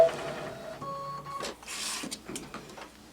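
An embroidery machine runs a basting stitch around a square, giving a steady mechanical whir with rapid needle tapping and a few brief clicks, close and moderately loud, with no talking.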